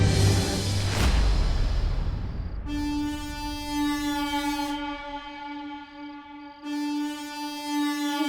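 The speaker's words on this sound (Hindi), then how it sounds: "ये तो सैंटा की हॉर्न पाइप की आवाज है।" A sustained horn sound effect, standing in for Santa's horn pipe, follows a brief low thump: two long, loud, harmonic blasts with a short gap between them, clear and alone without speech.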